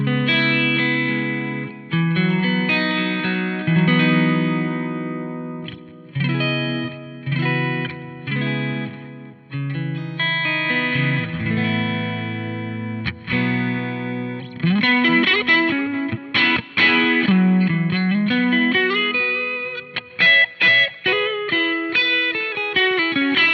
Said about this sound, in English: this first tone I'm going to show you is basically an American clean sound. But what I've done is added a nice reverb to it and some vintage delay